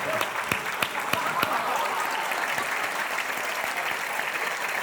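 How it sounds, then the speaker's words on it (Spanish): An audience applauds after a children's choir performance, a dense, sustained round of clapping with a few sharper claps early on, close and even in level. "Bueno, pues despedimos con este fuerte aplauso."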